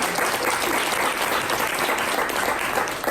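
A crowd at an LGBTQIA nightlife panel breaks into loud, continuous applause, a dense, even roar of clapping that carries through the whole stretch.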